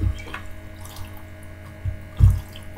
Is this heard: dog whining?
no